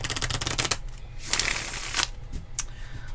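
Tarot cards shuffled for a reading, with bursts of riffling and soft card slaps recurring over about three seconds, close and moderately loud.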